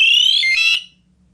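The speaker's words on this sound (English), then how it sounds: "If the user has not reset compass by moving within the 10-second pre-alarm mode, compass goes into full alarm." A Panther SCBA Compass PASS device goes into full alarm with a loud, piercing electronic tone that rises in pitch and warbles briefly. It then cuts off abruptly, leaving near silence.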